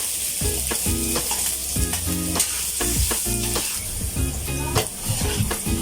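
Ginger sizzles loudly in a hot frying pan while cooking pork apritada, with a steady crackle and bursts of stirring and spattering throughout, no one talking.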